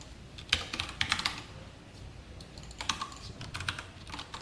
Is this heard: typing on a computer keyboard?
yes